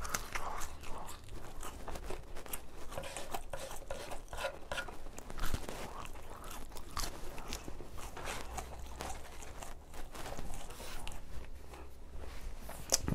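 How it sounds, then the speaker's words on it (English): Hard McDonald's fries and chicken nuggets being chewed, with faint, quiet crunching and chomping repeating irregularly up close, no voices over it. "let's get one more nug, a couple more fries in."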